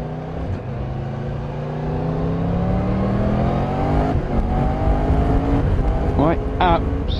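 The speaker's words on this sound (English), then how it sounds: "I absolutely love the engine note on this bike." A 2023 Triumph Tiger 1200 GT Explorer motorcycle engine runs steadily with rising and falling pitch as it revs, loud and close throughout.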